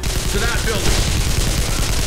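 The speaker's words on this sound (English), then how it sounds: "And I'm just trying to shoot him." Gunfire from a Global Ops: Commando Libya video game battle, a dense, continuous rattle of shots at steady loudness throughout, with a voice speaking briefly over it.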